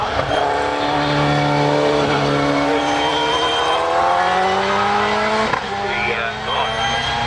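Hillclimb race car at Harewood, a resprayed car that was once yellow, driven by the ladies' hill record holder, roaring steadily up towards the finish with rising engine pitch and gear changes, under continuous commentary.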